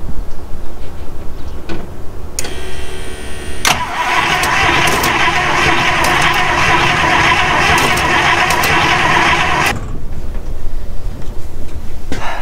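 A 1956 Buick Century, an old car with a freshly repaired cooling system, cranks briefly, then its engine catches and runs loud and steady for several seconds before shutting off.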